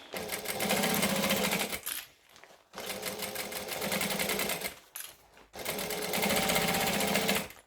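A domestic sewing machine runs in three steady bursts of decorative top stitching along a bag with a longer stitch, each run buzzing close and loud before brief pauses between.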